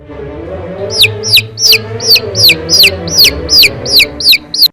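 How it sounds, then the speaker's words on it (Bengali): A red-and-white chick beside a hen, heard as about eleven sharp, high peeping calls in a regular rhythm, loud and close, over a low murmur of background noise. "ওই যে লাল ও সাদা কালার মুরগির বাচ্চাটা দেওয়া যাবে"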